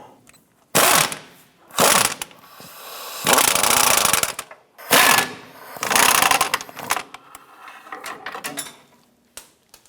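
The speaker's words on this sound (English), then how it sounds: "Using our 15mm swivel socket and extensions, we're going to remove these two rear monomount bolts" A ratchet with a 15mm swivel socket and extensions loosens the rear engine mount bolts on a 1994-2004 Chevy S10, making several loud close bursts of rapid clicking separated by short pauses.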